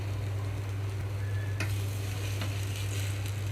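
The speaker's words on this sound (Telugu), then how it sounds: "చూడండి చక్కగా వేగిపోతుంది ఈ రాగి దోశ" Ragi dosa frying in oil on a pan over high flame: a steady sizzle with a low stove hum underneath, a faint scrape or tap partway through, and no talk.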